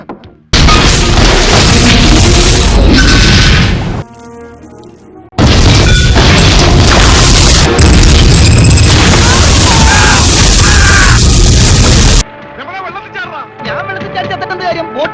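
Military gunfire and explosion effects in a comedy sketch make loud, dense booming blasts in two long sustained bursts, with quieter stretches of voices and sound between them.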